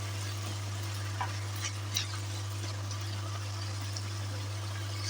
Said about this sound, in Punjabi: ਪਹਿਲਾਂ ਆਲੂਆਂ ਨੂੰ ਤਲ ਲੈਣਾ